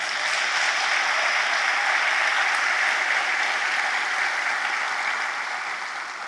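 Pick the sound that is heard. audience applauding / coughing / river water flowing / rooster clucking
audience applauding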